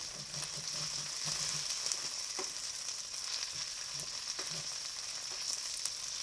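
Hashbrowns frying in butter in a pan make a continuous close sizzle and crackle, with occasional soft pops and light scraping, no voices over it.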